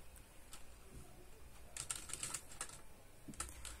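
A computer keyboard is typed on in short, soft bursts of quick keystrokes, faint against a steady room hiss, while a terminal command is entered.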